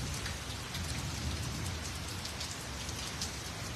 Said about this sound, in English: it is raining here in Tennessee pretty hard